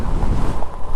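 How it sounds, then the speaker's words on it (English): Steady rumbling wash of waves on a rough lake, heard from an e-bike ride along a nature trail and mixed with heavy wind buffeting the microphone, continuous and loud throughout. "Oh, that lake's rough."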